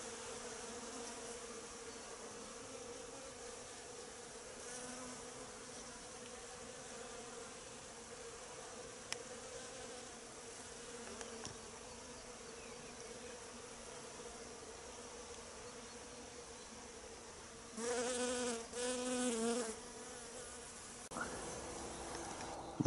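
Honeybees buzzing at a hive in winter, a steady low drone from many insects close by, with a louder burst of buzzing near the end.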